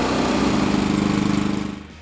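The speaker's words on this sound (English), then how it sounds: "The Briggs & Stratton has revved up to meet the demand, and it's cranking out around 68 decibels of noise." A Briggs & Stratton 3000W inverter generator for RV camping, revved up under a roughly 1500 watt load, gives a loud, steady engine drone that holds level and then tails off at the very end.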